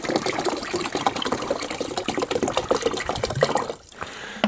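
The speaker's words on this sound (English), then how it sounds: "Pour in a bottle of water." Bottled water pours steadily into the plastic reservoir of a countertop portable ice maker, a continuous close gush and splash that cuts off near the end, leaving a faint trickle.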